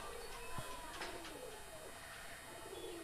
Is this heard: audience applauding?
no